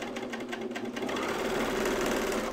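A sewing machine runs steadily over the stitching on a Bleuet dress, its fast, even mechanical chatter close and alone.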